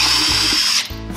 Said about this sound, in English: putting a little pilot hole in the center.